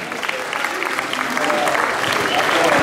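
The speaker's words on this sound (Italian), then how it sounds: "E tanti auguri al centro commerciale Banchieri con il vostro applauso!" A shopping-centre birthday crowd applauds, with dense, steady clapping that builds slightly in loudness over a few seconds.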